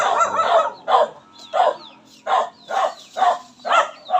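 Chickens in a tree cluck and squawk in a regular series of short bursts, about seven calls spaced evenly, fairly close with some higher chirps between.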